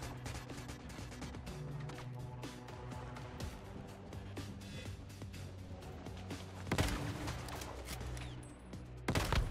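A minigun-wielding Rosetta Elite enemy in Once Human fires rapid, steady bursts of gunfire amid other game sounds, with a couple of louder crashes toward the end.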